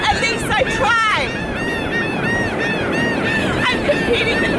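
Geese honk repeatedly in a loud, busy flock, their calls rising and falling over a steady background of crowd babble and ambient noise.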